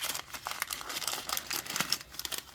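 Toy parts from a Miniverse nature series set being unwrapped, with close, rapid crinkling and rustling of plastic packaging in quick irregular bursts and no talk.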